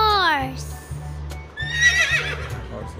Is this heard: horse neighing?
yes